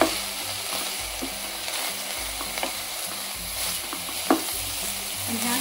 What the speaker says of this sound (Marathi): आता आपण हे ब्रोकलीची चिरून घेतली आहे ती याच्यामध्ये ॲड करू।